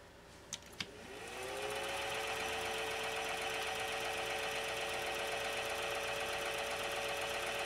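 A 1930 Singer 101-4 sewing machine runs on its motor after a couple of sharp clicks, spinning up into a steady, loud, close mechanical whir that holds constant to the end, with no talking.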